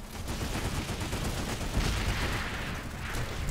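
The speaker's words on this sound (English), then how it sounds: "Oh shit, people are shooting me." Dense gunfire in the Planetside 2 video game, rapid overlapping shots forming a loud, continuous rattle with booming low impacts throughout.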